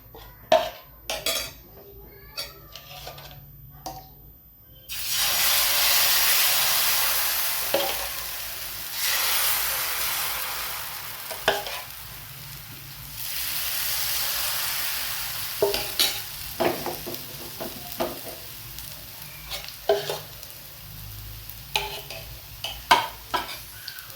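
Gram-flour dosa batter is spread and cooked on an oiled pan, with sharp taps and scrapes of a ladle against the pan, then a loud hissing sizzle that swells and fades, followed by more scattered clinks and scraping.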